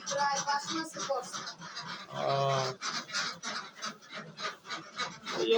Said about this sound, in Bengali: শাহিন তোমার এই হাঁসের বয়স হয়েছে কতদিন?